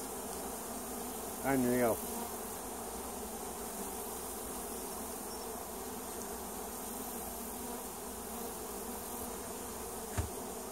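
Honeybees buzz around an open hive during an inspection, a steady faint insect hum throughout with one louder buzz passing close by early on. A brief word is spoken quietly.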